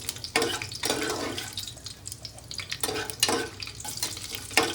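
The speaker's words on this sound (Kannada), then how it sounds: "ಎಲ್ಲ ಚೆನ್ನಾಗಿ ಮಿಕ್ಸ್ ಮಾಡಿಕೊಂಡು ಸ್ವಲ್ಪ ಫ್ರೈ ಮಾಡ್ಕೋಬೇಕ್ರಿ ಅದ್ರೊಳಗೆ" Chicken pulao mixture being stirred with a spoon while it fries in a pan, giving a steady sizzle broken by repeated scraping strokes at close range, with no voices.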